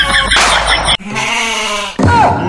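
A goat gives several loud, close bleats with wavering tones. They come one after another, each separated by a short break.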